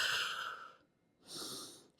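Breathing during a stick mobility exercise, bending at the hips near a wall: two slow, airy breaths, one long and one shorter, close to the mic, with a quiet gap between.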